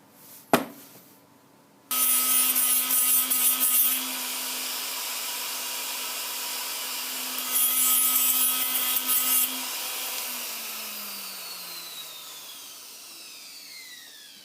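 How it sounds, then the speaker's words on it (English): Flat grinding wheel spun inside hardened bushes to clean out black residue, a sharp tap and then a loud, steady high-pitched whine with two harsher grinding bursts, winding down as the wheel slows. "just whiz these around with a flat wheel on the inside just to clean the black crap out of them"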